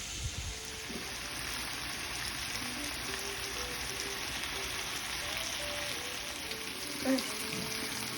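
Chicken pieces for apricot chicken pan-frying in hot oil, a steady, even sizzle that runs the whole time at close range, with faint clinks of the pan and no talking.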